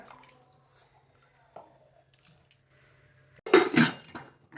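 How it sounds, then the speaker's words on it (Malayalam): Water is poured into a pressure cooker holding chopped carrots in a short, loud splashing burst after quiet moments with faint kitchen clinks. "കുറച്ച് വെള്ളം നമുക്ക് ഒഴിച്ചെടുക്കാം"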